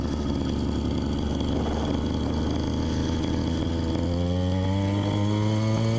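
A Phantom 85 motorbike engine runs with a steady, buzzy drone right after a choke start, its pitch shifting partway through as it settles into a firmer, more tonal note; close and continuous, with no talking.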